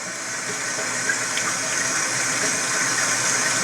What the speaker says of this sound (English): now I'm going to take these and wash them under cold water